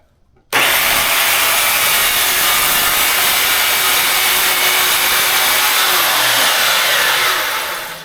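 An Evolution track saw bites into wood on a 25-degree bevel cut, a loud steady motor whine and rasp starting abruptly and running close and continuous for several seconds before easing off.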